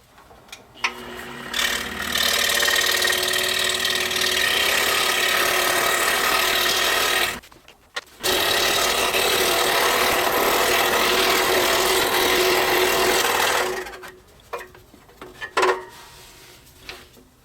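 A power tool cuts through a 1/8 inch MDF template, a steady loud broadband whine running for several seconds, stopping briefly, then resuming for another long pass before tapering into a few short bursts.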